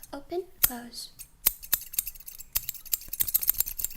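Scissors snip open and shut repeatedly with crisp metallic clicks, after a brief bit of talking at the start.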